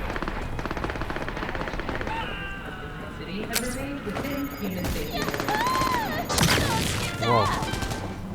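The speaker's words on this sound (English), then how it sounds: "Here's some shooting." Rapid automatic gunfire in the video game Cyberpunk 2077 rattles steadily under game sound effects and music, with a few sharper shots and electronic whooshes layered on top.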